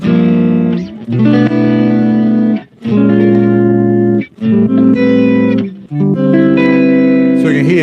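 Electric guitar chords run through a Strymon Volante pedal's auto swell effect, each chord fading in smoothly without a pick attack, with reverb and echo tails between a handful of loud, sustained swells.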